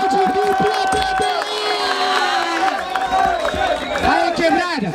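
Loud crowd cheering and shouting at the grand final of a rap battle in Barueri, with whoops, hand claps and a voice calling out over the noise throughout.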